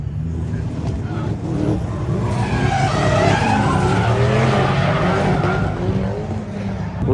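A McLaren race car slides sideways through a drift, its engine droning loud and steady with broad tire skid noise layered over it for several seconds, up close and continuous.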